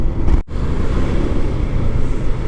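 Steady, loud low-frequency road traffic rumble of cars and buses surrounds a rider stuck in a long traffic jam on a ride to Pampanga, continuous with one brief dropout near the start.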